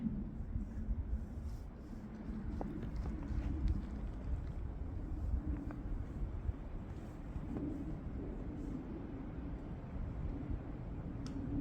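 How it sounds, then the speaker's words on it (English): Low, steady wind rumble buffeting the microphone, with faint scattered clicks and rustles on top. "Getting kind of windy."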